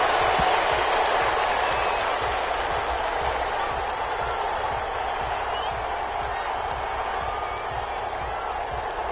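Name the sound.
NFL stadium crowd cheering and applauding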